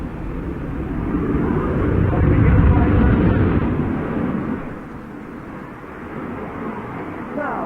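An Italian Air Force display jet roars overhead at the Royal International Air Tattoo airshow, a loud broad rumble swelling to a peak then easing off, with a commentator talking over it.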